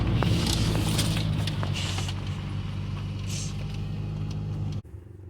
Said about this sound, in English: we start hearing the truck make kind of a dying sound and we're only barely rolling